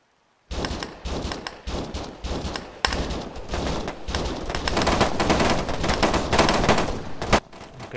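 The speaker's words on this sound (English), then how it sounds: "it seems that the AI of my teammates have opened fire" Teammates open fire in Arma 3, with sharp bursts of rifle and machine-gun fire starting after a short silence and then building into a sustained, loud volley with occasional heavier thumps.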